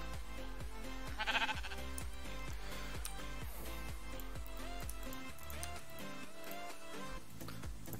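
Minecraft sheep from the FTB Continuum modpack bleating amid game music and ambient clicks, a brief bleat rising early and softer bleats mixed under the steady background.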